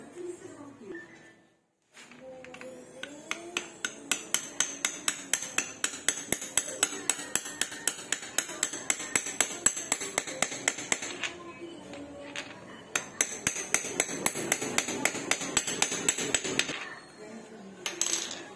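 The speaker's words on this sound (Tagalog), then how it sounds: "gagamit tayo ng deep socket para pang sagad natin, para mapakok natin yan, para mabaon natin siya" Rapid, sharp metallic taps repeat in bursts as a deep socket is hammered to seat a kick start oil seal on an XRM125 motorcycle, close by, with someone speaking at points.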